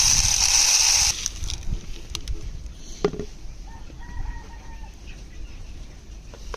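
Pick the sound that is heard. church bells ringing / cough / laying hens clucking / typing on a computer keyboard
laying hens clucking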